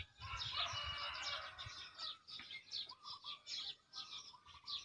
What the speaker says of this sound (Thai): เป็ดไก่ลงหลายขนาด